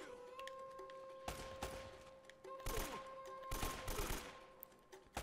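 AK rifle gunfire in the video game Uncharted: Drake's Fortune, several loud bursts of rapid shots spaced across a few seconds over a steady in-game hum, with echoing tails after each volley.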